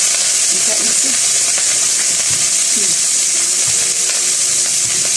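Pork for adobo sizzles and fries loudly in a hot pan, a steady dense hiss close up with occasional stirring clinks, and a voice talks quietly beneath it.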